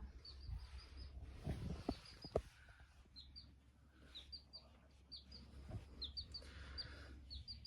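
Baby chick peeping indoors in a play room where a child plays with marbles: repeated short high chirps in clusters throughout, fairly faint, with a few louder knocks and thumps in the background.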